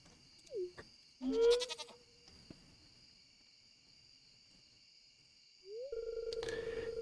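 Goat bleats from the Stardew Valley farming game, two short wavering calls, then a longer steady tone near the end, over a quiet background with faint chirping.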